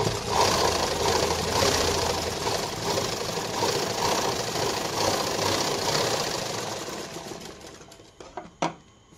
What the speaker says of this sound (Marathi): तर डबल शिलाई घेते मी आणि सेम ह्याच पद्धतीने आपल्याला दोन्ही बाही जोडून घ्यायची.